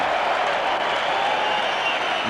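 A massive stadium crowd at a 1994 rugby league match between Canberra and Manly, a steady wash of distant crowd noise and applause with no distinct peaks, continuous through the clip.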